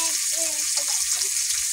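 Parshe fish frying in a pan, a steady bright sizzle of hot oil running throughout with faint tonal clinks and stirring sounds above it.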